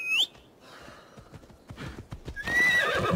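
A horse in the video game Assassin's Creed Odyssey opens with a sharp whinny, clip-clops along at a moderate distance, then lets out a second loud neigh over the closing hoofbeats.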